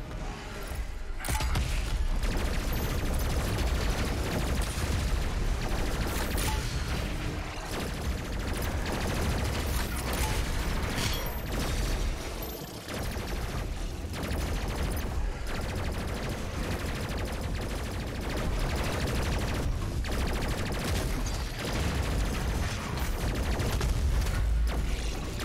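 Heavy weapons fire nonstop in the video game Doom Eternal, The Ancient Gods DLC. A dense, loud barrage of shots and blasts rolls on throughout with hardly a break.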